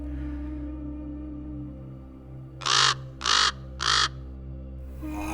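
A raven calling at dawn, three loud harsh croaking caws in an even rhythm, close and clear over a steady low hum.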